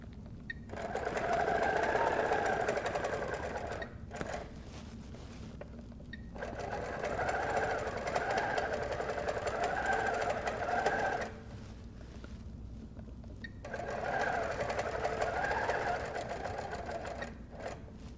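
A sewing machine stitching in the ditch on a Halloween vest runs in three long steady bursts, a close whirring hum with brief pauses in between, and no talk.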